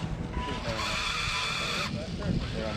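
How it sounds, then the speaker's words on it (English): A car at a drag race squeals its tire with a sustained high-pitched screech over engine and crowd noise, while a voice talks over it. "I think I just blew the tire out there."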